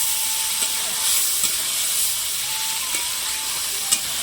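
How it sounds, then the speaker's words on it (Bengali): Spice paste being sautéed (koshano) in a pan before prawns go in for a radish and prawn curry, giving a steady close sizzle and hiss with a few faint stirring scrapes. "এবারে দেখো মশলাগুলোকে অনেকক্ষণ থেকে কষতে থাকবে"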